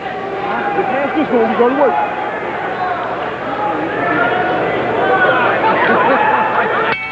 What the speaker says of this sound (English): You hear the crowd react.